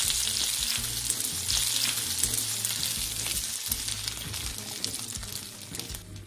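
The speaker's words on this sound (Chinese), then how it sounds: "慢慢翻炒一会儿" Broad beans stir-fried in green onion oil crackle with a dense, steady sizzle, while soft scraping of the spatula turns them at an even pace.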